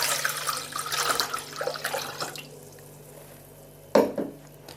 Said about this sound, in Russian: Для начала я выливаю сюда литр воды чистой.